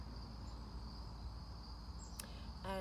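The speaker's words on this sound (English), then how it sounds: "it's just been a spectacular choir of birdsong and crickets and dogs barking and cars driving by" Crickets chirp outdoors at summer's end in a steady, faint high trill, with a soft background hum and a short burst of another chirping call near the end.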